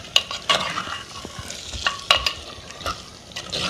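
Chicken being browned in a pan for handi korma, with a steady soft sizzle under a scatter of sharp scrapes and clinks as a spoon stirs it, close and moderately loud, with no talking.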